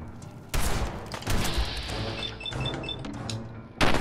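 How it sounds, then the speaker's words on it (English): Combat shotgun fire in Fallout 4's Far Harbor, heard as several heavy, loud blasts with booming tails spread across the clip, mixed with other game effects and a sharp final blast. "I'll use a combat shotgun."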